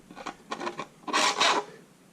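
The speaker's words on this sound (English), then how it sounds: "This is a chainsaw file that's sized perfectly for cleaning out" A chainsaw file rasps through a 6mm spar hole in a foam RC glider wing, a few short, close scraping strokes followed by two longer, louder strokes, with no talking.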